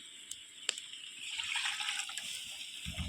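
Water gushes steadily into a pot of village-style chicken curry, a soft liquid pour that swells midway and carries on, with a couple of faint clicks at the start.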